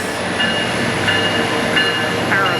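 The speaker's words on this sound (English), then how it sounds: "Ended up getting the train to Paris" A train rolls steadily past at close range, probably the Amtrak Surfliner (train 1752) hauled by a P42 locomotive near Fullerton, California, with continuous rumbling and faint rail squeals throughout.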